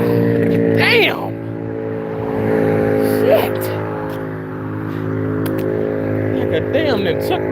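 A loud motorcycle roars past nearby, a sustained droning engine with rising and falling pitch sweeps as it accelerates and fades, under a constant steady tone.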